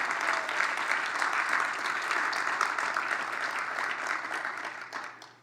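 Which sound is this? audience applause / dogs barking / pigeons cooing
audience applause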